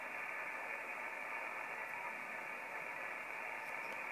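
Steady, smooth hiss of static from a Yaesu FT-817nd radio receiver with RF gain turned up on the wrong antenna, constant and unbroken with no other sounds.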